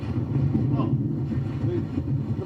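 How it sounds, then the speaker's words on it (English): A strong storm gust roars across the microphone on a flooded street where fast-moving water runs, a steady loud low rush of wind buffeting throughout. "most severe gust as it's pushing through"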